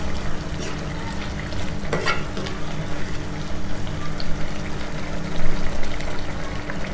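A spoon stirs mushroom prawn masala in a pan, close scraping and wet mixing over a soft sizzle, with a few louder strokes near the end and no voices.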